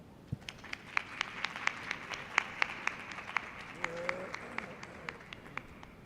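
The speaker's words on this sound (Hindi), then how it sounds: "चलो ताली बजाओ।" A small audience at a Janmashtami celebration claps in a loose, fairly quick rhythm, individual sharp claps standing out over a soft room murmur, with a brief voice sounding partway through.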